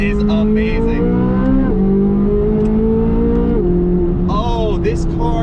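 A 2024 Chevrolet Corvette Z06, 670 horsepower with an 8,600 RPM redline, revving hard in loud, rising pulls that drop and climb again through several gear changes, close and dominant.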